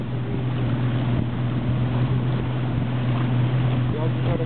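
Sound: motorboat in the mangroves

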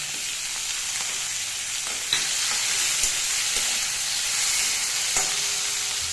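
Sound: prawns frying in oil with garlic

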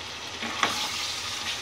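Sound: chicken pieces frying in a pan, oil spattering

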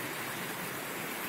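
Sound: flooded Dzhida river water flowing

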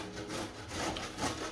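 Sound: grating cheese for beef enchiladas

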